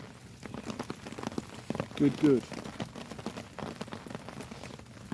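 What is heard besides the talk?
rain falling on hammock and tarp in a storm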